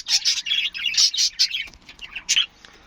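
Pet budgerigars chirp and tweet in quick, bright bursts, several calls overlapping close by, then a brief pause before a final few chirps.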